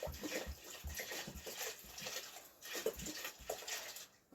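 Water pours into a container holding mesquite beans, a steady splashing flow, close and fairly loud, with brief breaks in the stream and a quieter pause near the end.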